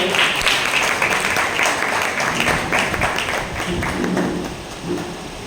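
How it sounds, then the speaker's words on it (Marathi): Sustained applause from a gathered audience at a felicitation honoring a teacher, welcoming a small gift, dense clapping holding steady for several seconds before easing slightly, with faint voices beneath. "त्याचं आपण टाळ्या वाजवून स्वागत केलं."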